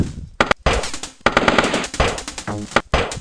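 Rapid automatic gunfire from the old PC game SealTeam, a loud, dense run of bursts that stops briefly once and then resumes, with no voices over it.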